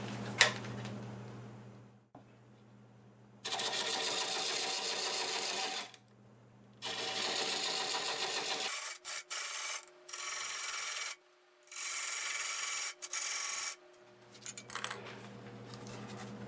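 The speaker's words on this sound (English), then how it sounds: "I'll cut that in there with this 1/2 inch bowl gouge." Wood lathe cutting a tenon with a 1/2 inch bowl gouge, bursts of harsh scraping and shaving noise over the machine's steady hum, stopping and starting several times, close and loud.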